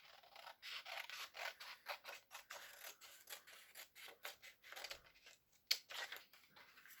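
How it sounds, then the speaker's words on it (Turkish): Scissors cut through paper for a preschool frog craft in a steady series of close, crisp snips and rasping slices, with a short pause partway before the cutting resumes. No one speaks. "makasımızı alıyoruz ve kesiyoruz çocuklar"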